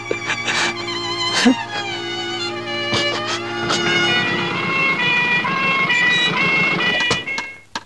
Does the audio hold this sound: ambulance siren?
yes